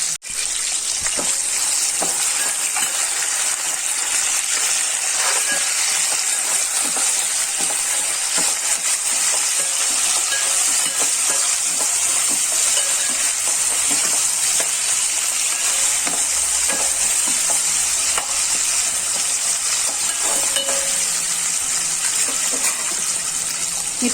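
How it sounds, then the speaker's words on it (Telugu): Chopped onions sizzle steadily in hot oil in a pan while being stirred for drumstick dal, a continuous loud frying hiss with occasional scraping. "ఉల్లిపాయలు వేసుకుంటున్నాను."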